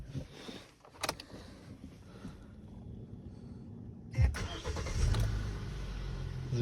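A Hyundai i30 or Kia Ceed engine cranks and fires up about two-thirds of the way through, after a quiet stretch with a few clicks, then settles into a steady, close low idle rumble.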